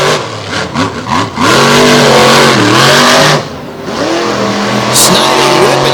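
Monster trucks racing at a Lake Erie show, engines revving loud and continuous with rising and falling pitch as they accelerate into a corner, an announcer talking over the roar.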